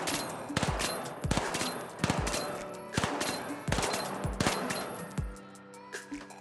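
Repeated bursts of gunfire from a light-class gun in The Finals, loud and close, coming in short clustered volleys roughly every half second to second, with a brief pause and a few scattered shots at the end.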